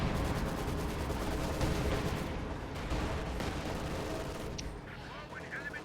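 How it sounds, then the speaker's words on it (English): A light artillery barrage in the Company of Heroes 2 video game, heard as a dense, continuous rumble of overlapping shell blasts and gunfire. It fades slightly toward the end, with someone commentating over it. "Ah, light artillery barrage."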